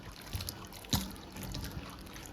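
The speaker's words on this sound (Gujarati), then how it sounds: "સરસ મજાના ચોખ્ખા પાણીથી આ મિનરલ વોટરથી આપણે ગવાર ધોઈ નાખશું" Clean mineral water trickles and splashes while cluster beans are washed in a home kitchen, a soft steady running sound with one brief louder splash midway.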